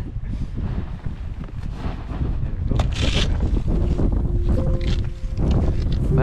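Wind blows hard across Fionn Loch near Poolewe, Scotland, on a packrafting trip, a steady loud buffeting rumble on the microphone with brief rustling and a faint tone partway through.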